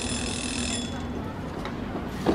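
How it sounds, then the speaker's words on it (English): A door buzzer in the video game If on a Winter's Night rings as a shrill, steady electronic tone for about a second and then stops, leaving faint background sound. "no, it's the door buzzer."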